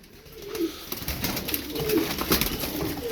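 Turkish tumbler pigeons coo in low, repeated, throaty calls, several of them close by, over a steady murmur of background noise and faint rustling.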